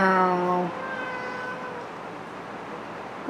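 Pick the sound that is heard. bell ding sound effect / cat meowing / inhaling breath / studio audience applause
cat meowing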